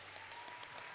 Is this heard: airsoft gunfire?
no